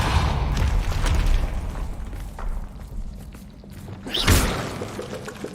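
A Depulso spell fires in Hogwarts Legacy, with rumbling booms and swooshes over a dense low bed, ending in a sharp forceful blast near the end.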